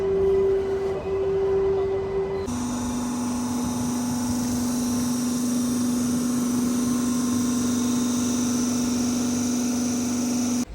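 A Kacheguda–Raichur MEMU passenger train runs with a loud, steady rumble and a sustained electric motor whine that shifts pitch partway through, heard from inside the coach.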